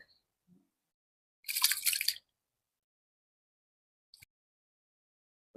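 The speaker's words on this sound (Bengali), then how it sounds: "চালটা ভালো করে ধুয়ে নেন।" Rice being washed in water by hand in a village kitchen: a short wet swishing and squishing burst, then a faint drip, close and alone.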